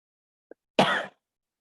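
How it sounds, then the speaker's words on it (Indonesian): A person gives a single short, close cough after a faint click, with silence before and after. "Terlalu semangat, jadi batukan."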